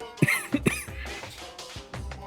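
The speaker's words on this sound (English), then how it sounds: "And Makoto coughs." A Danganronpa: Trigger Happy Havoc character coughs in a few short, sharp bursts close up, followed by quieter throat sounds and faint background noise.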